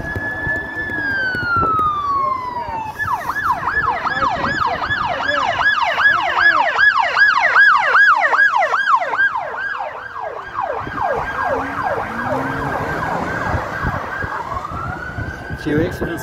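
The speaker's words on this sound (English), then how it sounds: "Oh, ambulance!" A loud wailing siren sweeps up and down repeatedly for most of the clip, rising in pitch and then fading, with excited voices briefly heard beneath.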